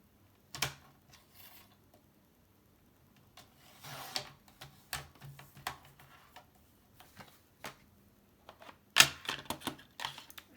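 Paper being cut for a handmade Christmas organiser, a few quiet snips and crisp clicks in short irregular bursts, close and isolated, with no voice.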